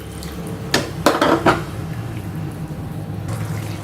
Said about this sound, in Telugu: ఇప్పుడు ఇదంతా బాగా ఫ్రై అయిన తర్వాత ఇందులో కొంచెం నీళ్లు వేసేసుకోవాలి